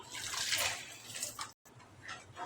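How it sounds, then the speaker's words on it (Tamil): Water mixed in a blender jar splashes and pours steadily into a pot of tomato curry, a bright rushing flow with a brief break before it continues. "மிக்சி ஜாரில் கொஞ்சம் தண்ணி சேர்த்து கலந்து இதில் ஊற்றிக்கலாம்"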